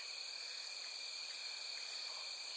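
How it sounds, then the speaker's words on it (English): Crickets chirp as steady background ambience in the video game Night in the Woods, a faint, continuous high-pitched trill with no talk. "It's quiet, but there is the background noise of the crickets."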